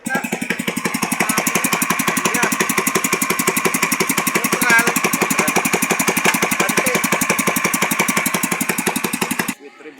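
A Pro-Quip 18hp engine with reverse runs at a steady idle, a loud, fast, evenly pulsing mechanical chug close by, cutting out abruptly near the end.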